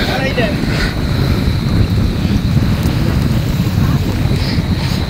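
Strong wind roars steadily across a seaside bridge, a loud, continuous buffeting rumble that fills the whole stretch, with faint traces of other sounds beneath it.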